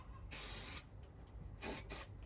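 Three bursts of an aerosol spray can hiss close by while a camper van, a Volkswagen T4, is being insulated: one longer spray, then two short ones in quick succession, with quiet gaps between.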